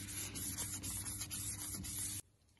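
800-grit wet-and-dry paper is rubbed over car paint on a classic Volkswagen, giving a steady, close, gritty hiss that stops abruptly near the end.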